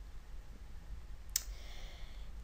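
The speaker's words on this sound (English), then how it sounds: "you can just keep clicking until you get a look that you are happy with" A single quick computer mouse click while editing a photo in Photoshop Elements, faint and close over a steady low background hum, with no talking.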